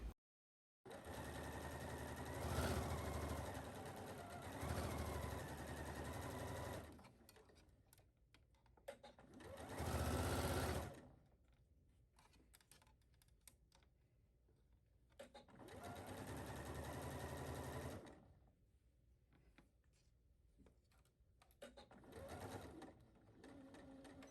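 A sewing machine stitches down the plackets of a cut-out dress bodice in several long, steady, buzzing runs. Between them come quieter pauses with light handling clicks.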